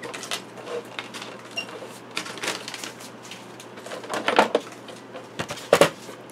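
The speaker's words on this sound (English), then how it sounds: "let me run it through my Sizzix machine" A Sizzix die-cutting machine cranks a die through paper for rose decoupage on a craft table, giving irregular mechanical clicks and rattles, with sharper, louder clunks toward the end and no talking.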